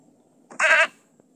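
A cloud goat in a sky-world video game gives one short bleat, clear and fairly close, lasting under half a second against a faint background hum.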